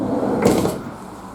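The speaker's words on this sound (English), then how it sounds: "Side loading door now as we open up" A side loading door on a Ford Transit Custom 2.0 TDCi 270 Trend L1 H1 diesel panel van slides open with one short rolling rush in the middle, then settles. Nobody speaks.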